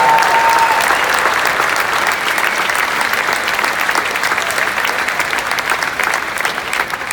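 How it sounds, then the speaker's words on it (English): An outdoor audience applauds the Grant Park Orchestra after a concert, sustained loud dense clapping with a faint crowd murmur, continuous throughout. "Give them a round of applause."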